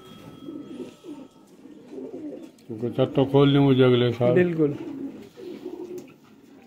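Pigeons coo in a loft, a burst of loud throaty rolling coos in the middle, with fainter cooing before and after and people talking quietly alongside.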